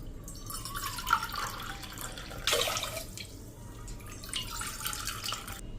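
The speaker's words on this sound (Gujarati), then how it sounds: "તો આપણે 3 કપ પાણી નાખી દેશું" Water pours into a pressure cooker holding rice and lentils, giving two short splashing, gurgling bursts close by against a quiet background with faint drips and no talking.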